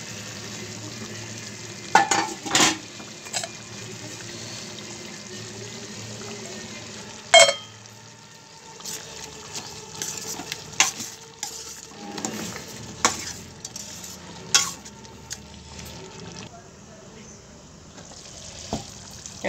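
Chicken curry simmering and being stirred in a pan: a steady soft sizzle underneath, with repeated clanks and scrapes of a spoon against the pan in irregular bursts, close and clear, no talking.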